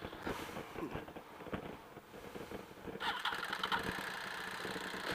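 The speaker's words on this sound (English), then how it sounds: "My bike ain't starting." A motorcycle that won't start gives off a rough, uneven engine-like rumble from cranking attempts, with wind buffeting the microphone and the sound growing a bit stronger in the last two seconds.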